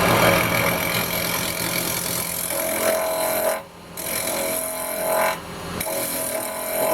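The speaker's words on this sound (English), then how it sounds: "I'm just going to start doing the outside shaping with my 15mm round" A wood lathe spins a small bowl while a 15mm round carbide cutter shapes the outside, producing a loud, continuous scraping roar with two brief dips where the cut lifts off and resumes.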